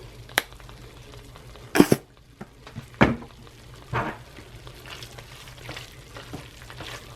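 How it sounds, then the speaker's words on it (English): Pulled pork with barbecue sauce is stirred in a crock pot, with a few soft scrapes and clunks of the spoon against the pot over a faint wet background and no speech. "Give it a stir."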